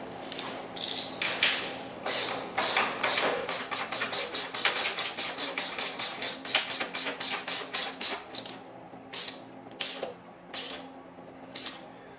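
A ratcheting socket wrench with a 7/8 socket tightens engine mount bolts on a KX450F dirt bike, fast rhythmic clicking bursts close up, slowing into spaced strokes toward the end.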